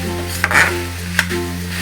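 Mixed vegetables sautéing in oil and spices for a homemade veg pulao, giving a constant loud close sizzle, with two sharp scrapes of a spoon against the pan and no voices.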